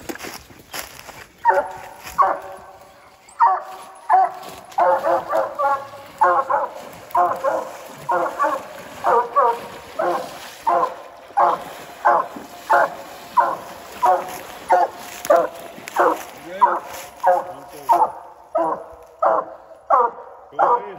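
Hunting dogs bark in a steady, repeated rhythm during a coon hunt at a state hunt final, loud and fairly close, one bark after another for the whole stretch.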